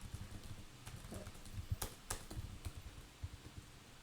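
Typing on a computer keyboard, a quick run of soft, close key clicks and taps at an uneven pace, fairly faint and with no talking.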